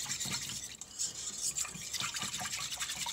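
Popover batter being whisked steadily in a bowl, a bright, rapid scraping and tapping that repeats in quick strokes, close up and fairly quiet, with no talk.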